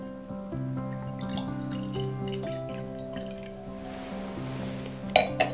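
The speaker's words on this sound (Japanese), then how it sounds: "こうすることで、ワインが空気に触れないで注ぐことができるということになります。" Aged wine is poured gently into a glass held in the other hand, a soft trickle with light glassy ringing tones and a couple of clinks near the end, quiet and close, without speech.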